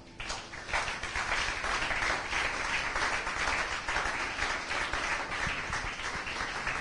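A church congregation applauds God during a French-language sermon, a dense, steady wash of many hands clapping that swells in early and holds loud and even throughout without talk.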